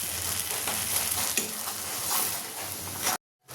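Spice paste sizzles and fries in a hot pan while a utensil stirs and scrapes through it, a steady close crackle that cuts off abruptly near the end.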